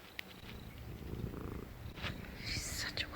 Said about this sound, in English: Listen to her purring.